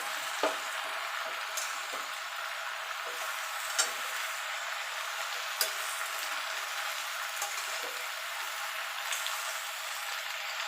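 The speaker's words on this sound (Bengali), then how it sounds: "পালং শাকটা একটুখানি নেড়ে দেবো" Spinach fries in a pan alongside brinjal and vegetables, giving a soft, continuous sizzle with occasional sharp ticks and stirring taps, fairly quiet and close.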